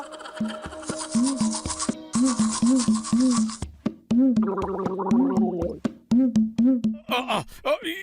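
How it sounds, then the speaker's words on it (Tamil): Cartoon teeth brushing with a toothbrush: rhythmic, exaggerated scrubbing strokes repeat in quick bursts, mixed with playful tonal effects and a voice. "ஏற்கனவே பிரஷ் பண்ணிட்டா மறுபடியும் பிரஷ் பண்ண வச்சுட்டல"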